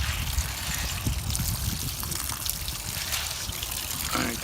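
Reddish water trickles and drips steadily from an aquarium filter bucket, a continuous close splashing dribble lasting several seconds with faint background noise.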